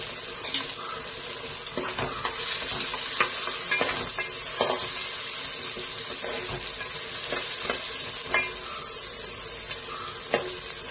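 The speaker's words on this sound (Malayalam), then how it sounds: "നമുക്ക് ഈ സവാള വറുത്ത് കോരി വയ്ക്കാം" Onions sizzle loudly in a pan, a continuous crackling hiss with occasional scraping and stirring clicks close by.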